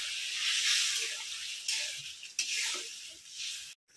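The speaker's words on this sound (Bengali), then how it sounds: "অল্প একটু জল দিয়ে দিচ্ছি।" Water splashed into a hot pan of boiled, cut potato curry gives a steady, bright sizzling hiss that surges briefly, then breaks off abruptly near the end.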